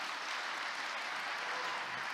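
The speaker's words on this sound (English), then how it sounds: "A big round of applause again," A conference audience applauds after a startup talk at How to Web 2019, a dense, even wash of clapping that stays constant and fairly close for the whole stretch, with no speech on top.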